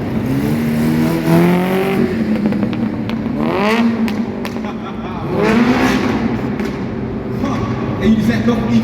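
A Lamborghini Sián at a tuning car show revs its engine loudly and close by, with the pitch rising and falling through several revs and crackles, and voices talking over it.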